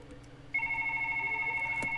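A telephone rings with a steady electronic tone that starts abruptly and holds continuously, fairly loud and close over a faint background hum.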